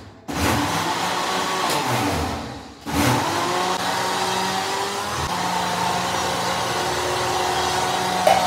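A kitchen grinder churns thick cream into butter, a loud steady motor whir that starts, stops briefly, then runs on with a shifting pitch.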